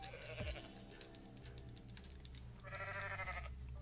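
A goat in the video game Goat Simulator bleats a wavering cry over a steady electronic hum and background game sounds, fairly quiet and close, with no one speaking.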